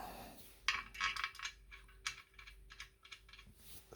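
Metal TV lift bracket being fastened with Allen keys during a DIY bedroom build, a run of sharp close clicks and metallic taps in irregular bursts over a steady low hum, with no talking.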